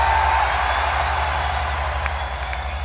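A large concert crowd at a show in Leeds roars and cheers in a sustained, dense wash of noise, steady and loud from start to finish.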